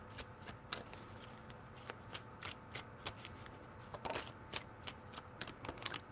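A tarot deck handled and shuffled in quick, soft bursts, close and fairly quiet, a run of crisp card flicks and slaps spread steadily through the moment with a low room hum beneath.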